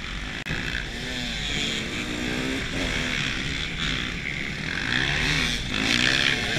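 An off-road motorcycle races flat out down a muddy straight in a hillbilly GP event, the engine howling loud and close as it climbs through the gears with short shifts between rising pitches.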